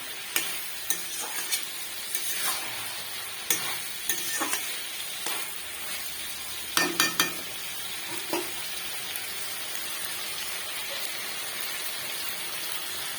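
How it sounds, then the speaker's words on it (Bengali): Pointed gourd, potato and prawns sautéed with spices in a pan, a soft continuous sizzle broken by irregular spatula scrapes and knocks, fairly quiet and close, no talk. "এখন আমি পটল, আলু আর চিংড়ি মাছটা দিয়ে দিয়েছি। দিয়ে ভালো করে এই মশলার সাথে"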